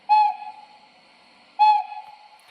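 Two short, sharp O gauge European toy steam locomotive whistle toots, evenly spaced about a second and a half apart, close and clear.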